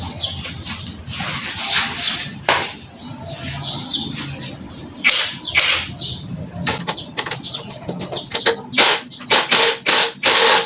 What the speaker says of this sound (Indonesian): Untuk melepas roda depan kita memerlukan kunci sok ukuran